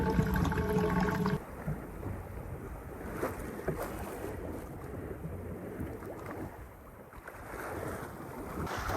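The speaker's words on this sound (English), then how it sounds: "And now we're sailing." A sailboat under way on the open ocean, with rushing wind and water washing along the hull in a broad, steady wash, close and fairly loud, swelling and easing in gentle surges with no voices.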